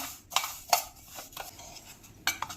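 A spoon scrapes and clinks against a bowl while spices and salt are mixed, sharp irregular strikes spaced a few tenths of a second apart, close and fairly quiet, with no talking.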